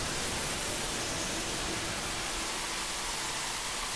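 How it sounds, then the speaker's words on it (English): A synthesized whoosh, with a sine wave modulating its frequency, plays as a steady wash of hissing noise that thins slightly in the low end over four seconds, faint and alone. "that's a sine wave modulating the frequency of that sound"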